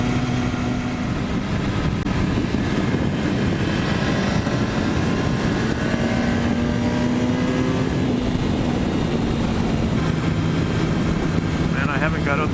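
Kawasaki ZX-10R motorcycle being ridden, a loud continuous engine roar with wind buffeting, the pitch rising and falling gradually as the rider shifts and accelerates.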